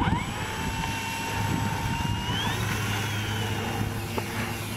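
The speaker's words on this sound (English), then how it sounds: "couldn't turn the plane around because of the wind. So what he's gonna do is go around and land closer." A plane circles around in strong wind to set up a closer landing, its engine a steady droning hum with a faint whine, heard moderately near and fairly quiet with no talk over it.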